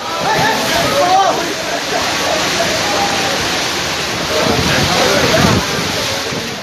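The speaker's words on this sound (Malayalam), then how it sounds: "പെരിയാർ കരകവിഞ്ഞ് ഒഴുകുകയാണ്." Floodwater of the overflowing Periyar river in Kerala during heavy rain, a loud continuous rushing roar with gusty wind noise over the microphone, steady throughout with slight swells.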